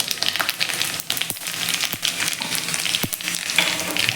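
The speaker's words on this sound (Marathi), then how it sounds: "आता याच कढईमध्ये आपण तेल घात घालून घेतलेलं आहे आता आपण त्यामध्ये घालूया मोहरी थोडेसे जिरे घालायचे आहेत" Mustard seeds and cumin sizzle in hot oil in a kadai, a loud close frying hiss dotted with sharp pops and crackles and a few spoon clinks, with no talking.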